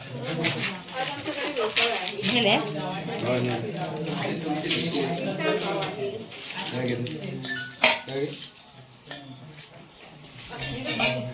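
Spoons clinking against dishes during preparations after a Ganpati bhajan gathering, scattered light metallic clinks under almost continuous nearby chatter.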